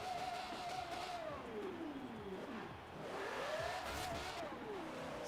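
Car engine in the Forza Horizon racing game, a stock car revving with a rising and falling pitch that sweeps up and down over several seconds, steady and fairly quiet throughout.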